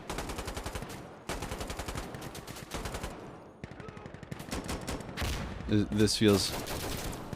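An MG3 machine gun fires in Insurgency: Sandstorm, with long, loud, rapid automatic bursts broken by brief pauses, and a player speaking near the end.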